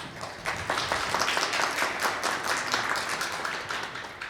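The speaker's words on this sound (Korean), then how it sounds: "큰 박수 부탁드립니다." Audience applause at a Korean traditional arts concert, a dense sustained wash of many hands clapping at steady volume throughout, moderately close with no clear voices.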